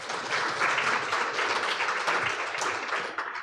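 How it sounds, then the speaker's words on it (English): An audience claps continuously, a thick wash of many hands sounding nearby, holding steady for a few seconds before easing off. "People, can we clap for these ladies?"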